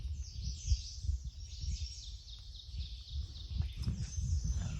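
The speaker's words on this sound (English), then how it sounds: "You can really hear all the birds." Birds chirp and sing in the distance on the Appalachian Trail, a steady chorus of high calls over low outdoor rumble.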